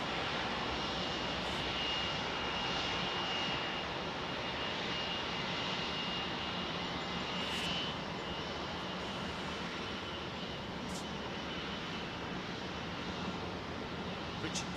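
British Airways Boeing 777-300 jet at London Heathrow, a loud, sustained broadband engine roar that stays strong throughout, with faint talk briefly audible beneath it.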